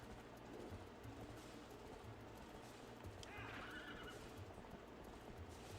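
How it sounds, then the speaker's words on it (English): Horse riding in the video game Twilight Princess: a steady galloping clip-clop of hooves under a low rumbling backdrop, with a loud whinny breaking out midway, close and clear. "I do love the horse riding in this game."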